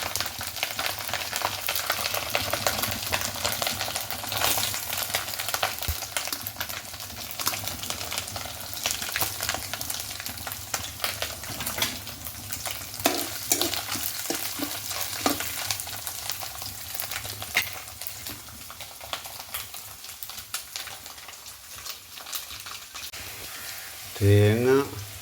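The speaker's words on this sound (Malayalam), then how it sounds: "തേങ്ങ വറുക്കും." Grated coconut sizzles and crackles steadily in hot oil in a pan as the first step of a simple Kerala beef fry, a dense, even frying hiss with occasional stirring scrapes and a brief clatter near the end.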